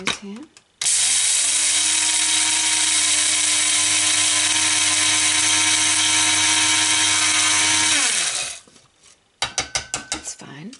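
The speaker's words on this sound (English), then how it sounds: "I've got a little grinder here. We'll grind our flax." A small electric grinder whirs loudly and steadily for about seven seconds as it grinds flaxseed in a kitchen, then winds down, followed by a few clattering knocks of the grinder.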